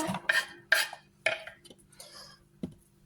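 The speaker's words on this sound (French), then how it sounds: "dans ma poêle, comme je vous ai dit juste avant, je vais y mettre les oignons" Onions tossed into a frying pan, a few separate clattering knocks and scrapes against the metal, close and fairly clear with quiet gaps between them, with no voices.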